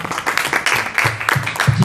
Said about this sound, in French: Applaudissements pour Lorraine Fouché